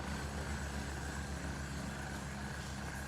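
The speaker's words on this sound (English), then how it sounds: "Sorry, I heard a helicopter," A helicopter in a video game, its steady rotor and engine drone holding at an even level throughout with no voices over it.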